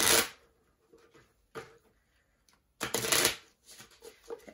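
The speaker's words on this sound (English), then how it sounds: "So I'm just shuffling them the old boring regular way," Someone shuffles a deck of playing cards by hand, giving rapid riffling bursts broken by short pauses, close and fairly quiet.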